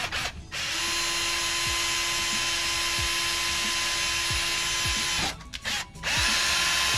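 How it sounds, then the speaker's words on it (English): A power drill whines steadily and loudly at close range for several seconds, drilling a hole in car plastic, briefly cutting out and then starting up again. "He's drilling a hole in the plastic."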